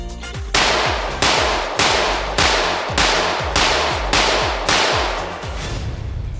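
A ported Glock 17 pistol with a Lone Wolf Alphawolf LR01C slide, a 507 Comp sight and a PID, fired in a steady string of about nine loud, sharp shots roughly two-thirds of a second apart, close by with no talking.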